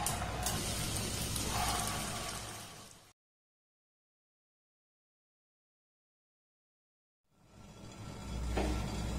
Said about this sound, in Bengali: বাকিগুলোকে একইভাবে আমি ভেজে নেব।